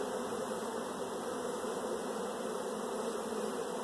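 Honey bees buzz in a dense, steady drone during a spring brood nest inspection of an opened hive, loud and continuous throughout with no voices.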